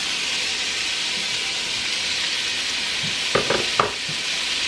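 Onion sizzling steadily in melted butter in a pot as soup begins, a constant close frying hiss with a few brief utensil clatters near the end.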